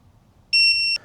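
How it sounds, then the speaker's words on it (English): A single steady electronic beep, clear and loud, lasting about half a second in a quiet room. "Wait for the beep."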